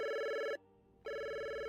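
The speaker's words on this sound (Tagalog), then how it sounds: "bigla namang tumunog ang aking cellphone" A cellphone ringing with a steady electronic ringtone: two loud, close bursts of tone separated by a half-second gap, with no voices.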